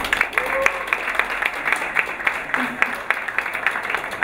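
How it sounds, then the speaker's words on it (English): Lively applause from a large audience at an evening space-day event, a dense patter of many hands clapping steadily for several seconds, close and fairly loud, with faint voices mixed in. "Please have an applause for the lady."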